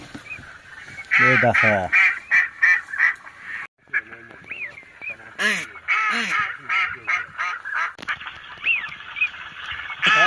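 Ducks on the Sarı Su wetlands quacking and honking loudly and repeatedly at close range, in bursts, mixed with people talking.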